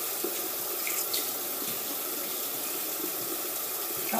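Water runs from a tap into a sink in a steady, even hiss and splash, close and constant for several seconds with faint small clinks.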